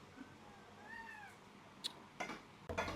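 A pet cat meows indoors, with a few clear, drawn-out meows in the first half, then a sharp click and some thumps and rustling close by.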